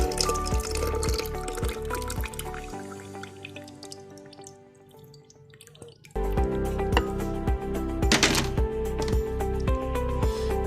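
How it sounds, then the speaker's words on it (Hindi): Water is poured into a pot of soaking tamarind and Bukhara plums for a sharbat, a steady close splashing and trickling that drops to a quieter dribble midway before a strong pour resumes. "अब हम इसको पानी इसमें डाल देंगे।"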